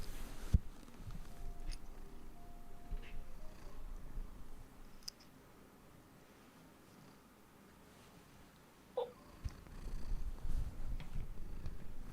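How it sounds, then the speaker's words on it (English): Close, soft cat purring as a low rumbling drone, with a few small rustles and bumps nearby. "Can you hear her purr?"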